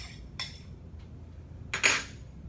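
Utensil scraping and clinking against a bowl while kids stir batter in a home kitchen, a few brief bursts with a louder scrape near the end, no talk.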